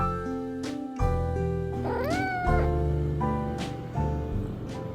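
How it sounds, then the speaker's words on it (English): Pet cats meowing indoors, several distinct close meows in a row, one drawn out with a rising, wavering pitch, with short pauses between calls. "I'm gonna show you guys my cats real fast"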